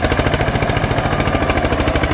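A new Eicher 242 tractor engine runs with its muffler, giving a steady, loud, close chugging pulse with regular firing beats throughout and no talk.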